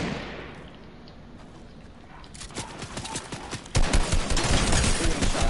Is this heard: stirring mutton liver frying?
no